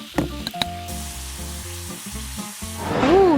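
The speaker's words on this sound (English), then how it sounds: "The vendor runs their spatula to separate the cooked batter from sticking." Mung bean pancake batter sizzles loudly on a hot metal griddle at a Korean night market, with a few sharp metal spatula scrapes and clicks early on, under faint background music.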